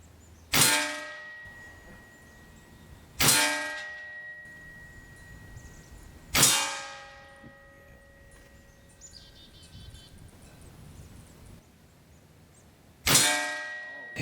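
A .17 Hatsan JET 2 PCP pellet pistol fires 15.89 grain Hades pellets at a target: four sharp, evenly separated shots, each with a bright metallic clang that rings out and fades, loud and close, with no talking.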